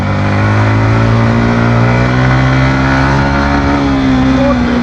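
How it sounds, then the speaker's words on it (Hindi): A Yamaha MT 15 motorcycle engine, heard while engine braking on a ride, holds a loud, steady mid-pitched drone with a slowly shifting pitch. It stays close and continuous throughout, with no clear talk. "हाँ भाई हम करेंगे इसके अंदर इंजन ब्रेकिंग।"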